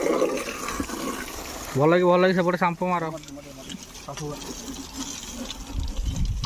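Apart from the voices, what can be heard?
water poured while washing a motorbike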